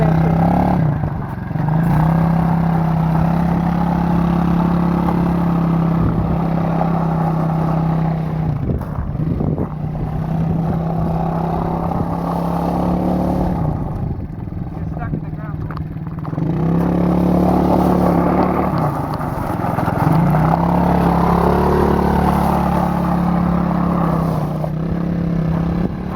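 A small quad ATV runs a steady buzzing, putting engine note while being ridden, rising and falling in pitch as the throttle changes, with crunching of gravel and a dip in loudness midway as it turns, close and continuous.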